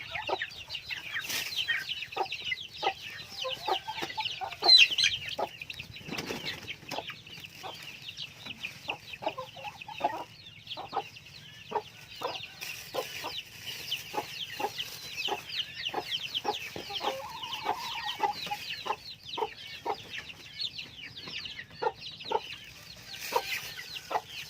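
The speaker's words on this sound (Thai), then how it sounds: "มาเบิ่งไก่" Backyard chickens are fed cabbage and feed pellets and cluck steadily and busily close by. Short calls repeat on a quick, irregular rhythm, with a few louder squawks over a quiet background.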